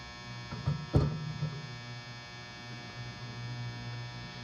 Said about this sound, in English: You can hear the ballast in there humming away.